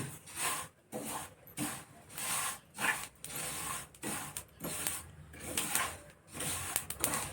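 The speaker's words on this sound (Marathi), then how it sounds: "थोडं तडतडायला लागलं म्हणजे" Sesame seeds dry-roasting in a hot pan for til vadi, crackling and popping in dense, close bursts separated by brief pauses, with no talking.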